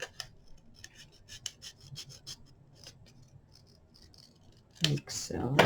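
Scissors trim a thin black edge off paper during a craft session, quiet close crisp snips and rustles in an irregular run before louder handling noises and a voice near the end.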